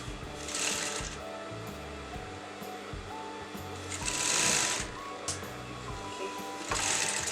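A sewing machine runs steadily while stitching the crotch seam of a Patiala salwar, a continuous close whirring with brief surges and slight speed changes.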